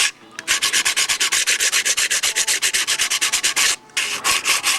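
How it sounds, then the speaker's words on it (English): A Dremel rotary tool sands the cut edges of a Novanta RJ90 model aircraft cowl, making a close, rapid, rhythmic scraping of many short strokes with one brief pause near the end. "So now I have all these edges, and I need to get them trued up. I did that all with the Dremel tool."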